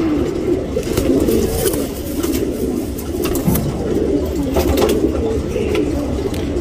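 Tournament racing pigeons, including a top-class cock bird, coo loudly and continuously at close range, their overlapping throaty rolling calls filling the whole stretch.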